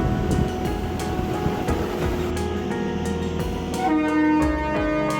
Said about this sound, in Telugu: ట్రైన్ అయితే ఇక స్టార్ట్ అయిపోయిందండి